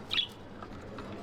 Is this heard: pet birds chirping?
yes